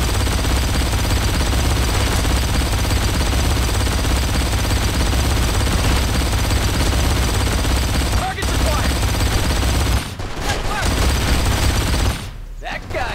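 Sustained, dense turret machine-gun fire in the video game Blacksite: Area 51, a loud continuous rattling barrage that briefly breaks off near the end.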